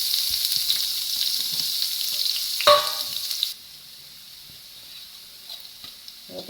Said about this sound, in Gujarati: આપણે ડુંગળી સાતળી ગઈ છે.